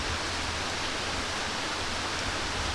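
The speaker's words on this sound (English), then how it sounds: "you will hear the water dripping from the treetops" Fog water dripping from treetops in a misty mountain forest at Doi Inthanon, Chiang Mai, making a steady, even hiss much like light rain, with no voices.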